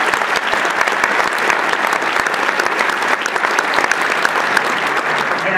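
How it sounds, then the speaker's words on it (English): A large keynote audience at IBM PartnerWorld 2015 gives a full, dense round of applause, loud and sustained at an even intensity from start to finish. "to actually give you a round of applause for everything that you accomplished in 2014"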